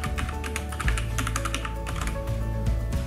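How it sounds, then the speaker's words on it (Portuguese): Fingers tap out an ID number on a computer keyboard in a quick, uneven run of close, crisp keystrokes. "Está escrito o CPF, você vai digitar o seu, né? Eu vou digitar o meu"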